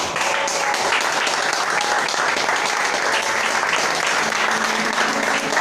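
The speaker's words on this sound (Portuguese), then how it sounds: "vamos colocar de pé e dar palmas para Jesus" A church congregation standing and clapping during a worship service, a thick, continuous burst of many hands applauding at steady volume, with faint voices mixed beneath.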